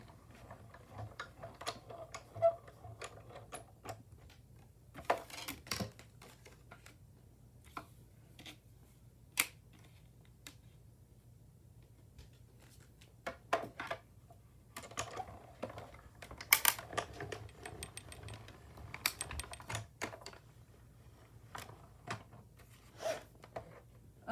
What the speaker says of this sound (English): I'm getting up my cut and emboss machine.